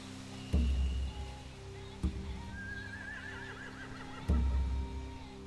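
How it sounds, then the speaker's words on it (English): Horses whinny and snort in The Walking Dead video game, with heavy low thuds and a shrill whinny rising in the middle, close and fairly loud over a steady background hum. "They have horses."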